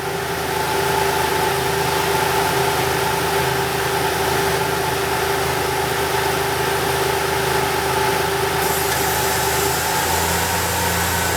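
Toyota Tacoma V6 engine idling with the brake booster hose pulled off, a loud steady drone with a constant low hum and faint whine, running unchanged, with a slight shift near the end.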